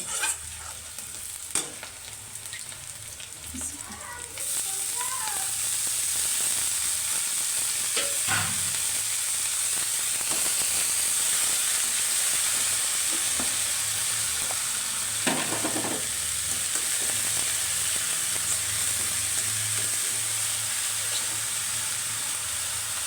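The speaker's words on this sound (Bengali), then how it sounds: "এখন শাকটা ভালো মতো নাড়াচাড়া দিয়ে দেবো" Chickpea greens fry with onion and chili in a pan, a loud continuous sizzle and hiss with occasional scraping stirs and utensil knocks over the whole stretch.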